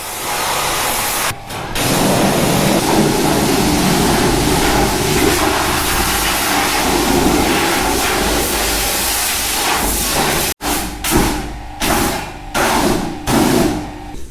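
Pressure washer spraying water hard onto a mud-caked, hot Jawa 42 motorcycle, a loud steady hissing spray that runs continuously, then breaks into short bursts near the end.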